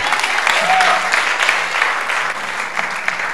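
An audience at a church gathering claps together in a brisk, dense burst of applause that holds steady for a few seconds, with a voice faintly heard under it.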